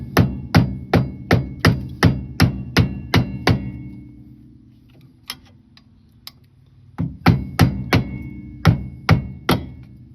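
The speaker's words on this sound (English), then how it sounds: "grab a screwdriver, get on that tab, and start hammering" A screwdriver is hammered against the tab of a brake nut on a 1962 Corvair that sat for 40 years. Loud, close metallic strikes come in an even rapid series of about a dozen, then a pause, then another run of blows.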